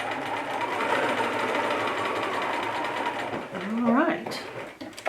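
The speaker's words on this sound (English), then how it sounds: "Put my needle in the down position and then put my machine in reverse stitch on a straight stitch." A Bernina sewing machine runs a reverse straight stitch, a steady close mechanical whir that fades out, followed by a brief voice.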